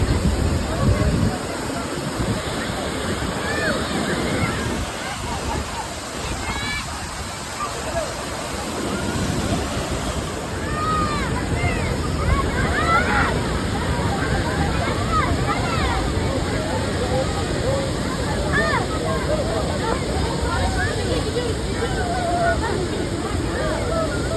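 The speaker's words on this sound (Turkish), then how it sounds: "Evet şelalenin yanına indik." A waterfall near Van, Turkey gives a loud, continuous rushing roar heard up close, with wind buffeting the microphone throughout.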